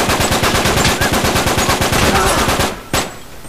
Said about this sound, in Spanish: tú disparando balazos como por un tubo y no te da nada